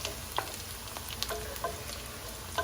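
Browned onion sizzling in hot oil with two bay leaves added, a soft continuous crackle broken by a few sharper spits and pops, no voices.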